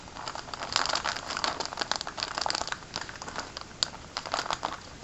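Packaging crinkles and crackles as a package is unboxed by hand, giving a busy run of close, irregular rustles and crunches with no talking.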